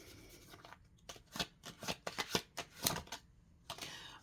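Tarot cards being shuffled by hand: a quiet run of crisp, rapid papery flicks and clicks in uneven bursts, with a short pause near the end before a few more flicks, no voices.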